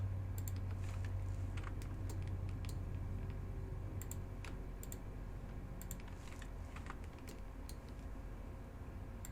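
Computer keyboard typing and mouse clicking during 3D modelling work in Blender, with quiet, irregular clusters of keystrokes and clicks over a low room hum, no speech.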